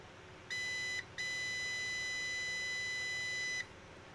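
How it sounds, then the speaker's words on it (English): A Zoyi ZT-1000R multimeter sounds its continuity tester with a loud, clean electronic tone. A short beep is followed by a brief gap and then a long steady beep of about two and a half seconds, with no talk. "you've got continuous beep"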